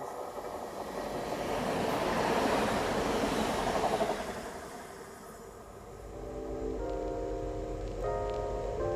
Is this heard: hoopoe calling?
no